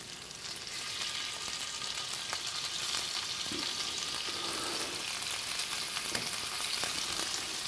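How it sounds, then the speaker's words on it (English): A stir fry sizzles steadily in a hot pan, a constant crackling hiss with occasional soft pops and stirring scrapes, close and even throughout with no talking. "Just you start to hear that little bit of sizzle now."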